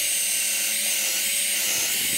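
A power drill with a small bit boring into a log for a homemade bird feeder, a steady high whirring drone held close and loud throughout.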